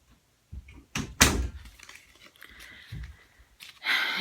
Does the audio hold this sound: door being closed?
yes